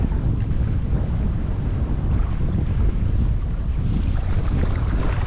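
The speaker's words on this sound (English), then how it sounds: "I'm actually happy the wind is going in this particular direction" Strong wind buffets an outdoor spot beside a small fishing stream, a steady low roar and rumble of wind on the microphone that runs continuously with no voices.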